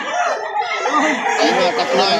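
A Talisayen rooster crows loudly and close for a couple of seconds at a chicken sale in Lipa City, Batangas, with a voice talking over it.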